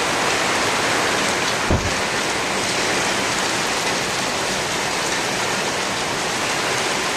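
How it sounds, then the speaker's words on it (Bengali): Heavy rain pours steadily and loudly in Subarnachar, Noakhali, after the wind has died down, a dense even hiss with one brief knock partway through. "এখন শুধু বৃষ্টি, বাতাস একবারে কমে গেছে"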